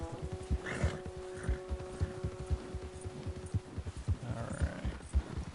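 Horse hooves clip-clopping in Red Dead Redemption 2, a steady near rhythm of soft thuds with a faint snort or whinny over low background music.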